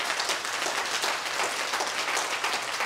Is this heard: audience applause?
yes